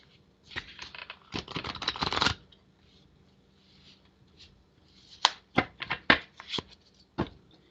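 Tarot cards riffle-shuffled in two bursts, a dense fluttering run of crisp card snaps, then a pause and a second series of quick separate riffles, close and fairly quiet.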